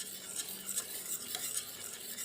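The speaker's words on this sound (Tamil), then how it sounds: "நம்ம ஒரு விஸ்கை வச்சு கிளறிக்கலாம்" A whisk works through a thick mixture in a pot while cooking Aadi kummayam, producing quiet, rhythmic swishing strokes with soft metallic scraping, close and low in level.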